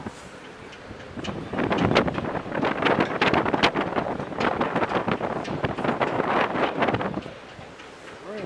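Gusty wind buffets the microphone outdoors in Haines, Alaska, rising into rough, broadband rumbling bursts for about five seconds before easing back to a quieter background.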